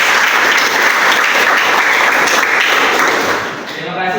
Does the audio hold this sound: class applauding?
yes